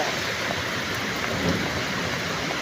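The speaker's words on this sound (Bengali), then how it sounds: "এটা সেই রকম বৃষ্টি হইতেছে, আমি ছাদের উপর খাড়া" A downpour beats on a rooftop in a continuous loud roar of close rainfall, unbroken for the whole stretch and with no voices.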